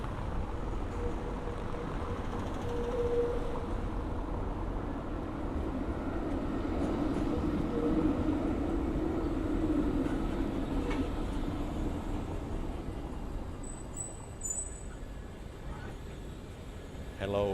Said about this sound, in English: We are entering the tram right now.